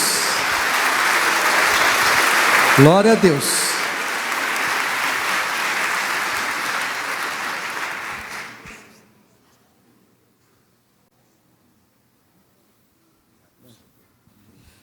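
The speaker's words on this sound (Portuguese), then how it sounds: "vamos dar um caloroso aplauso ao Senhor" A church congregation applauding warmly in a steady, loud wash of clapping for the first eight seconds, with a voice speaking over it, then fading quickly to near silence.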